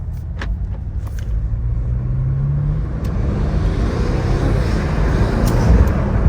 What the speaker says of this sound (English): Cannot beat that V8 sound.